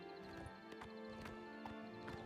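Horse hooves clip-clop faintly in a steady, unhurried walking rhythm in the Oblivion Remastered video game, heard under a constant tonal background of game music and ambience.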